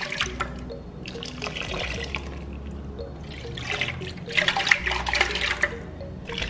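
Water is poured into a blender jug to rinse it, a close, uneven splashing trickle that swells and fades, rising louder near the end.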